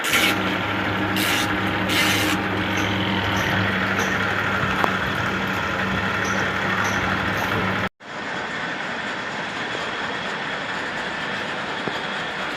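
A washing machine loaded with clothes and a lot of detergent churns steadily with a low rumbling hum and faint rubbing, then cuts off abruptly before a quieter, different background continues.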